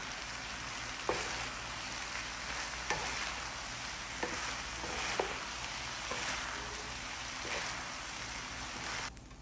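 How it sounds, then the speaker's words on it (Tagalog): Boiled, drained rice is stirred into vegetables in a pan for Filipino-style Chinese fried rice, with a low, even sizzle and regular soft spatula taps throughout, no voices. "At ngayon ilalagay ko na dito sa vegetable. Ayan, at i-mix ko na siya."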